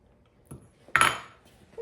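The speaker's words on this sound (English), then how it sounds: "I'm just gonna pop these in the oven." A baking dish of enchiladas is handled and slid into the oven, giving a few close clinks and a sharp metallic clatter with a brief ringing decay, surrounded by near-silence.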